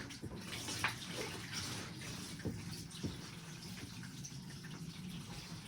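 Steady rushing water pours into an indoor water bowl for a savannah monitor, a continuous close gush with little variation.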